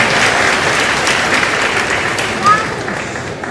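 Sustained applause from a large commencement audience honoring elected officials, dense and steady throughout with a brief cheer-like swell midway, no speech over it.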